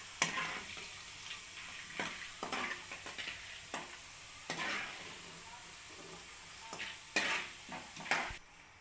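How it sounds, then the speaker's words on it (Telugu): Flattened rice (poha) frying in a pan, a faint steady sizzle broken by repeated scraping stirs and light clatters of the utensil against the pan, with no talk. "కొద్దిగా వేగినట్టు అనిపించగానే తీసేయాలి"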